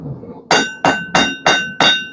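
Five hard hammer blows ring out on a blacksmith's anvil while forging a hot dog fork from hot steel, evenly spaced about a third of a second apart, each a loud bright metallic clang that decays quickly, with no talking.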